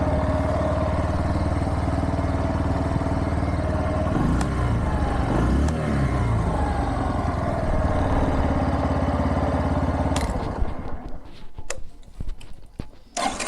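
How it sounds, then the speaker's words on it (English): A Bajaj Platina 100 cc motorcycle engine, its temperature sensor disconnected, runs at a steady idle close by. It putters evenly for about ten seconds, then cuts out into faint clicks and rattles. "Just start the engine for confirmation."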